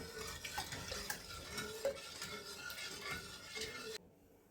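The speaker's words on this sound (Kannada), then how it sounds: "ಕರಗಿಸಿರೋ ಕಾರ್ನ್ಫ್ಲೋರ್ ಇದೆಯಲ್ಲ ಅದನ್ನು ಹಾಕೋಣ ನಿಧಾನಕ್ಕೆ ಮಿಕ್ಸ್ ಮಾಡ್ಕೊಂಡು ಮಾಡ್ಕೊಂಡು ಹಾಕೋಣ" A spoon stirs dissolved cornflour into carrot and jaggery halwa in a pan over a medium gas flame, with soft rhythmic scrapes and light sizzling close up, stopping abruptly near the end.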